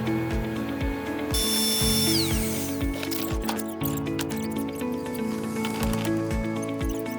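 Power planer feeding oak boards, loud whining machine hum with repeated short thumps as boards pass through, mixed with clattering.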